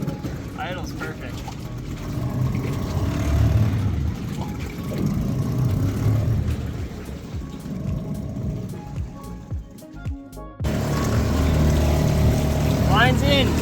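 A small two-stroke outboard motor idles on a motorized tri-toon floating picnic table out on the water, a steady buzzing drone that dips briefly near the end, with people talking over it.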